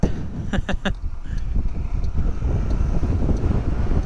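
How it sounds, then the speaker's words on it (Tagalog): Strong wind roars and buffets steadily against the microphone, loud and continuous, with a brief tapping sound early on. "Uy, lakas ang hangin."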